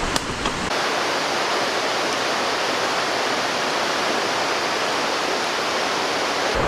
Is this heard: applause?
no